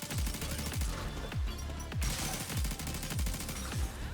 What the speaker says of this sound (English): Give me higher fire rate with my machine gun